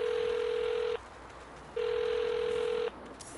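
Telephone ringback tone in the Saints Row video game, two long steady electronic rings separated by a short pause, clear and alone with no talk.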